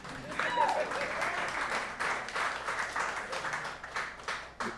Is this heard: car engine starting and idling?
no